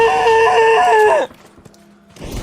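A man screams loudly with excitement during a live esports showmatch broadcast, a sustained high-pitched yell lasting over a second that cuts off abruptly into quiet background noise.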